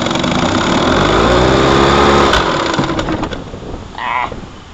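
A 1955 Johnson Seahorse 10 outboard motor idles with a steady, buzzing hum close by, its note easing lower partway through and then briefly picking up near the end.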